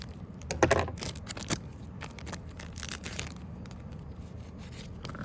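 Trading card repack packs are cut open at close range with a series of faint crinkly scrapes and sharp plastic clicks, then quieter rustling.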